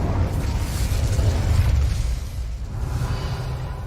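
An Incendio fire spell is cast in Hogwarts Legacy. It gives a loud, sustained, rumbling blast with a whooshing roar that holds steady for several seconds, then eases slightly toward the end.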